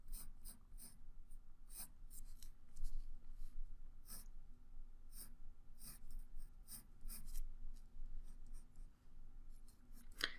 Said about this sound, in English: I'll go ahead and start sketching that in over here also.